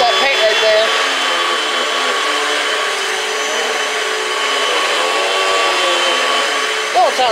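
A Panasonic upright vacuum cleaner runs steadily at close range while sucking up paint, a loud continuous whine and airflow roar with a brief handling bump near the start and near the end.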